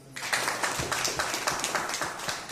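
Applause from a crowd at a weekly camp in Wazirganj, Gonda, honouring a speaker: a quick, evenly pulsing run of claps starts abruptly and carries on steadily, fairly close and moderately loud.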